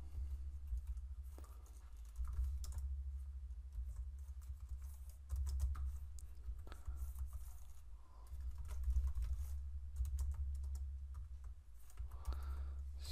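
Typing on a computer keyboard comes in scattered, light key clicks over a low steady background hum, close but quiet, with no talking.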